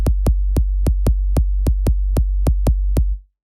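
A solo trap 808 kick, sampled from blowing across a glass bottle, hits eleven times in a steady, evenly spaced pulse over a sustained low drone that stops abruptly, each hit carrying a breathy, hollow texture.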